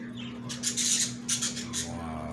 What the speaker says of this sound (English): I had to excuse my birds.